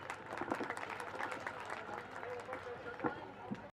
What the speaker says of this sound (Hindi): So welcome them with a huge round of applause.